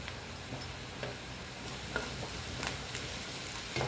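Sliced onions with a little salt sautéing in a pan for pepper chicken, giving a soft, steady sizzle with occasional light stirring clicks, fairly quiet and close.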